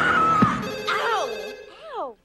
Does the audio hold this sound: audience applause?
no